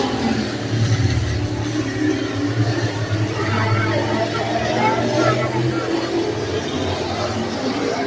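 Outlaw street-class race cars roar around Beckley Motor Speedway during the USA 100 feature, a steady engine drone and crowd noise running beneath continuous commentary.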